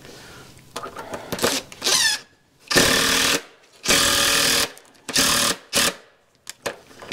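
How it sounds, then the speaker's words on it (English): A power drill drives screws into a wooden post outdoors in muddy conditions, loud buzzing bursts starting and stopping repeatedly, with a few short clicks and rattles in between. "I want to get a few screws started here before I go up."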